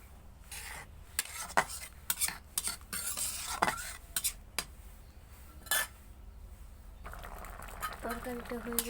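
Egg curry with potatoes stirred in a pan, a spoon scraping and clinking in irregular strokes over a faint sizzle, close up, with a voice briefly at the end.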